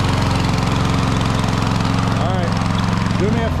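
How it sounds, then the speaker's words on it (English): Walk-behind lawn mower engine running steadily at close range with a loud, even chugging drone, while people talk over it. "thankfully we got this thing started because this is a really good mower"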